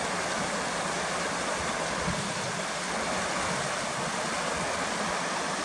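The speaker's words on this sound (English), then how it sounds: "I can sit and listen to the sound of water all day" A stream rushes through a forest, its water spreading unevenly across the bed, in a steady, dense, close-up roar that never pauses and carries no voices.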